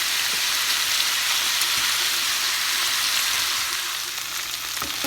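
Vegetables and potatoes fry together in a hot pan, giving a loud, continuous crackling sizzle like heavy rain, with occasional soft knocks from stirring.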